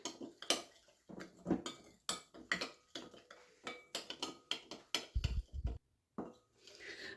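Lemon juice and spices being mixed in a bowl with a spoon, quick clinking and scraping taps at close range in an irregular rhythm, with no talking.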